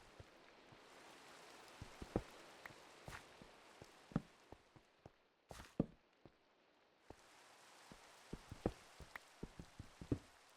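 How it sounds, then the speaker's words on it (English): Rain falls in the video game Minecraft with the ATM9 modpack, a soft steady patter with scattered sharper drops and a few louder taps, heard quietly with no talking. "And it started raining."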